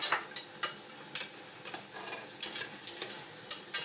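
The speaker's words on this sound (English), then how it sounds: "melt the butter" Butter melting in a pan for cream-boiled sunchokes, a soft close sizzle punctuated by light intermittent ticks and scrapes, fairly quiet, with no talking.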